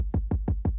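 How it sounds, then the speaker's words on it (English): Drum and bass kick drum sample, four punchy booming hits evenly spaced in quick succession, deep and close with no other sound around them. "we have this kick sound here."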